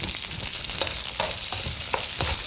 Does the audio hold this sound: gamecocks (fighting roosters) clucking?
no